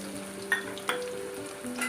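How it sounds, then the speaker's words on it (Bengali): Two large chopped onions frying in mustard oil in a wok, a close, soft steady sizzle with a couple of brief clinks or stirring bumps. "আমি কড়াইতে সর্ষের তেল নিয়েছি তাতে আমি দিয়ে দিচ্ছি দুটো বড় সাইজের পেঁয়াজ কুচি"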